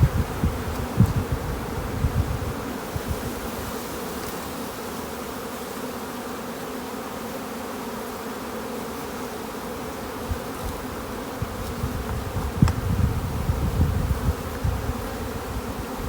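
Honey bees buzzing around an open hive during a spring inspection, a continuous dense drone from many bees close by with occasional louder passes near the microphone and faint knocks of hive frames.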